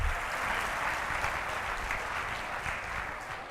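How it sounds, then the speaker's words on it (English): An audience at a fall leadership academy gathering breaks into steady, dense applause, a continuous wash of many hands clapping at even volume with no talking over it. "Round of applause for them."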